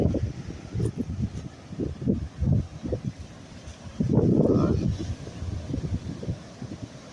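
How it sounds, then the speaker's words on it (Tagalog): Gusty wind on Jeju Island buffets the microphone in uneven bursts, with a rough rushing surge midway, like wind and strong surf close by. "So, malakas ang alon. At may hangin din."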